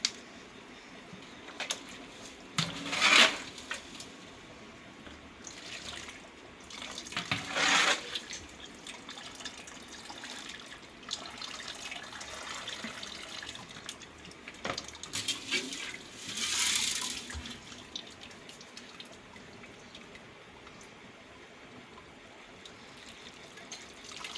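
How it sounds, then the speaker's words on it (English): Tap water runs and splashes into a cooking pot while making zobo (hibiscus leaf) drink, in a few louder bursts over a steady trickling background, with no talking. "I'll still be adding water inside this"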